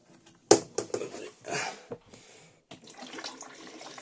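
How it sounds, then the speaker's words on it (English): Motorhome toilet flushing, a Compass Camino 554, with a sharp click from the flush button followed by a brief rushing gurgle of water, then softer trickling and splashing that fades out, close and fairly quiet. "I'll now demonstrate the toilet flush working."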